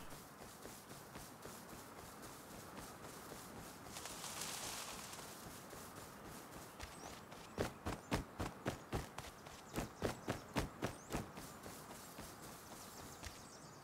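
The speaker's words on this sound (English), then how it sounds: "It is a horse." Horse hooves in the video game Rust: soft shuffling steps at first, then a run of crisp, evenly spaced clip-clop hoofbeats in two quick bursts, fairly close and clear.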